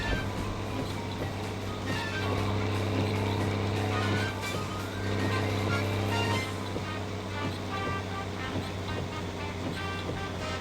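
A car engine drones steadily in the game My Summer Car, a constant low hum running throughout, with faint ambient rain-like wash above it and no talk.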